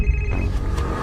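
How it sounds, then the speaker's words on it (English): A telephone rings at home in the small hours, a short electronic ring over a low background rumble, heard alone without speech. "I hear the phone ring"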